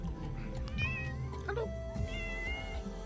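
A cat meows a few times at night in an outdoor Tibetan camp area, the calls rising and falling over a steady low background hum, fairly close and clear.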